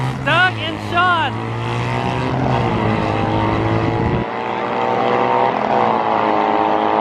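Sur Ron Light Bee electric bikes launch in a close final drag race at a Wednesday night drags event, a steady rising whine and roar that holds loud for several seconds before a sudden drop in low rumble, with voices and crowd noise mixed in.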